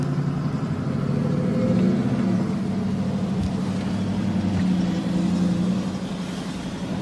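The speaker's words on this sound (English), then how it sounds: "I think that is an unmistakable V8 sound" A Ford truck's V8 engine rumbles steadily at light throttle, low and continuous throughout, with a slight swell midway and no voices.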